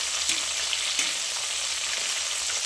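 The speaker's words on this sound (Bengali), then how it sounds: "এবার মাছের মাথাটা ভেজে নেব" A hilsa fish head with slit green chillies fries in hot oil, giving a steady, loud crackling sizzle with a couple of brief stirring or turning knocks.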